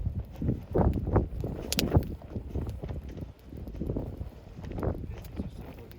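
Gusty wind on a beach buffets the microphone in uneven bursts, rumbling loudly and then easing, with no clear voices.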